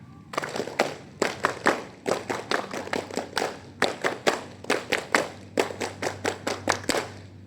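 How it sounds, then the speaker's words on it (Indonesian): A group of scouts at a school inauguration ceremony performs the patterned scout clap, a crisp rhythmic sequence of loud unison claps with short pauses between groups, repeated twice. "2 kali tepuk pramuka."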